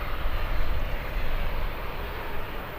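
A Ryanair airliner arriving from Alicante at Birmingham Airport gives off a broad, steady engine roar that stays loud and even throughout, with no talk over it.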